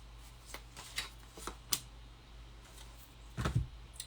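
Tarot cards being shuffled by hand during a reading, heard as soft, scattered riffling and tapping bursts over a quiet room hum, with a denser cluster of card handling near the end.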